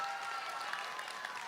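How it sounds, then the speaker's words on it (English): Faint, distant applause from students at a school achievement assembly, a soft steady patter of clapping that lasts a moment with no voices over it. "round of applause for table number 1"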